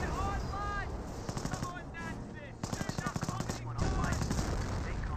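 Bursts of machine-gun fire in the Company of Heroes World War II strategy game, rapid rattling volleys in several separate strings, mid-distance, with a voice talking over parts of it.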